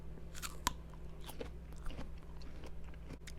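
Close, quiet chewing and biting into a ripe plum, its skin and flesh giving soft, moist crunches in a loose, irregular rhythm of several bites.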